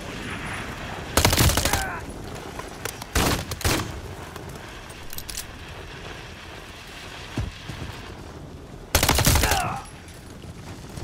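Light machine gun bursts in Call of Duty Modern Warfare 3, several loud separate volleys spread across the moment, with quieter game noise and faint talk between them.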